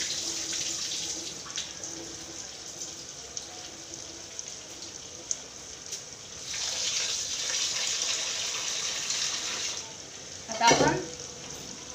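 Onion and tomato fry for masala khichdi with a soft, steady sizzle. Stirring scrapes mark the middle, a louder burst of frying swells partway through, and a short splash of water comes near the end; a voice speaks briefly.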